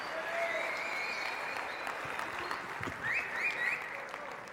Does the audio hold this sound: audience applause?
yes